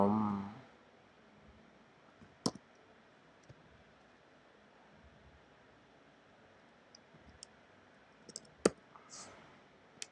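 A few sharp, isolated computer mouse clicks in a quiet room, with a short burst of noise at the start and long pauses between clicks.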